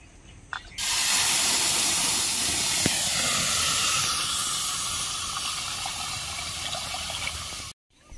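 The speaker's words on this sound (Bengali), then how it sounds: "500 দুধ নিয়েছি, দুধটা কড়াইয়ে দিয়ে দিব।" Milk poured into a hot wok sets off a sudden loud, steady hiss that holds for several seconds, then cuts off abruptly.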